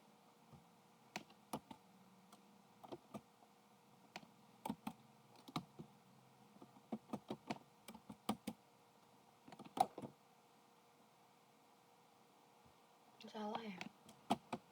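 Quick keystrokes clatter on a computer keyboard in scattered bursts, sharp and close, with a faint voice near the end.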